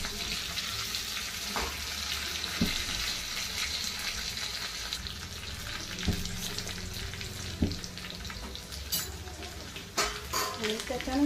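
A tempering of cumin seeds, green chillies and coriander sizzles in hot oil for a dhokla, crackling steadily up close with occasional sharp pops and utensil clicks.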